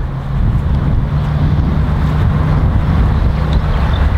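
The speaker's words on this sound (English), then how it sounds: "Really hard left to right wind." Strong left-to-right wind on a golf course, a steady loud roar buffeting the microphone for the whole stretch, with no talking.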